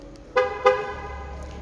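Two short, quick car horn toots in succession from a 2015 Ford Focus Titanium being locked, close and loud, followed by a faint low rumble.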